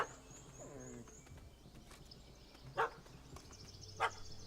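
In The Witcher 3, a dog barks a few times at a distance, with sharp yelps at intervals over quiet outdoor game ambience and no speech.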